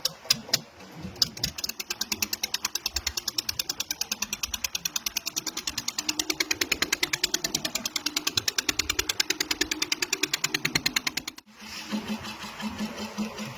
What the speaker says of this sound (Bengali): ইঞ্জিন স্টার্ট দেওয়া হলো, নৌকা আমাদের ছেড়ে দেওয়া হলো